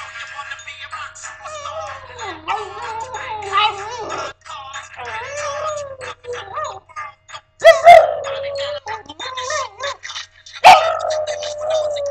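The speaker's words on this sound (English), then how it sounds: "this is my alarm clock ringer tone thing. And it wakes me up because it's loud and obnoxious." A loud, obnoxious alarm clock ringtone plays in the morning. A dog howls and barks along in wavering tones, with a few sharp, loud yelps.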